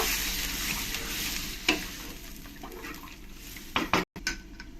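Ridge gourd and bori curry with potato being stirred after water is poured in, a steady sizzle with scraping spoon strokes against the pot and a few sharper clanks near the end.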